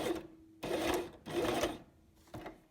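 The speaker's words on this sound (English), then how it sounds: "I go with back stitch" A sewing machine back stitching a fly front zipper runs in three short, close bursts of rapid mechanical stitching, separated by brief pauses.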